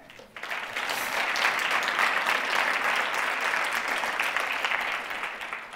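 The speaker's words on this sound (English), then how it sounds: "That's a round of applause right there." Audience at a university science talk final breaks into applause after the last presentation, a sudden onset of dense, sustained clapping from a large crowd that stays strong throughout.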